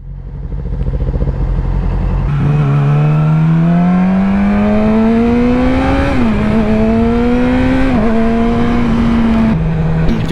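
A sportbike fitted with an Akrapovic Megaphone slip-on exhaust idles, then revs up in a long rising pull with a brief dip and another climb, loud and close, before settling back near idle.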